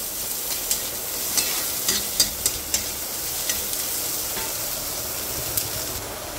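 Onions fry in a pan for turmeric pulusu, giving a faint, steady sizzling hiss with a scattering of light clicks and taps from stirring.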